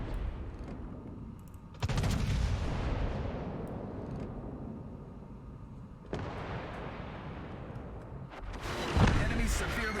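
Heavy warship guns fire HE shells in the naval combat game World of Warships, with three booming salvos spaced a few seconds apart, each a sharp loud blast followed by a long rumbling decay.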